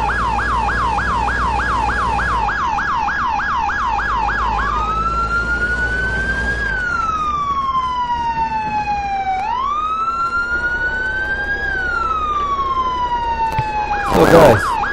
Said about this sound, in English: actually the sirens are fully working